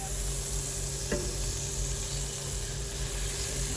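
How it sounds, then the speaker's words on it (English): Butter melts over low heat in a pan while an omelette is being prepared, giving a steady soft sizzle and hiss with one faint clink partway through, with no talking. "I'm going to let this butter melt and then we're going to add our egg"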